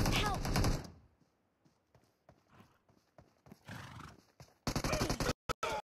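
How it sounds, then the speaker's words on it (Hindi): Horse galloping in the mobile battle royale game BGMI, played on a 4th generation iPad: bursts of clip-clop hoofbeats and a whinny, with short sharp game sounds near the end, loud and close. "फिर से मैंने उठाया घोड़ा और तुरंत चल गया"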